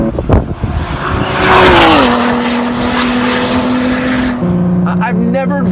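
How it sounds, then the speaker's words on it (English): A 2017 Ford GT with a V6 engine roars loudly while driving, its steady droning note rising and then settling into a sustained pitch before a gear change drops it lower. "Oh! That sounds so good. It is impossible to believe this is a V6."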